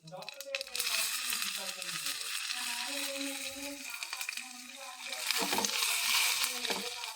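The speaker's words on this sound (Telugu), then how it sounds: "కొద్దిగా తడతడ అంటున్నప్పుడు పచ్చిమిరపకాయలు వేయాలి" Green chilli pieces dropped into hot, crackling oil give a steady bright sizzle with sputtering bursts, and a voice talks over the frying.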